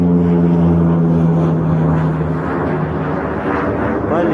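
A low, droning aircraft engine roars loudly and steadily overhead as an airplane passes directly above a snowy city square with a fountain in Yakutsk, with a strong hum that slowly shifts in pitch.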